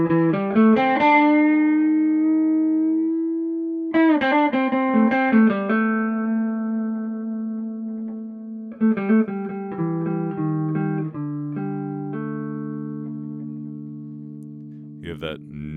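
Electric guitar through a Fender Blues Jr tube amp, played as ringing single notes and short phrases with a warm, slightly spongy sustain and faint hum, up close with no talk.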